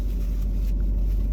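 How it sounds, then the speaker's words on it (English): A parked car idles with its air conditioning running, giving a steady, close low rumble and broadband hum that holds evenly throughout, with no speech over it. "We had our car off because of air condition, but it's like getting really hot, so we turned it back on."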